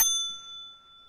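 A single bright bell ding rings out clearly and alone, its metallic tone sustaining and slowly fading over about a second, used as a subscribe notification cue.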